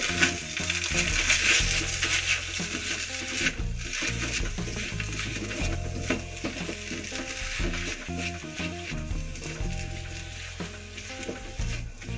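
Indomie goreng noodles with squid and celery being stirred in a hot pan, a steady loud sizzle of frying with scraping of the utensil, continuous throughout with no talking.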